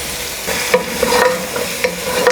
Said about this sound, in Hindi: इसको थोड़ी सी तेज़ आंच पे फ्राई करके निकाल लेना है।